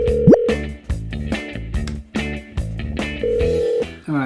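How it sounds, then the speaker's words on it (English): A phone call being placed, with a rising tone and repeated short beeps like dialing and ringback tones, fairly loud, followed by a sustained tone near the end. "I'll phone Ryan, see what he thinks."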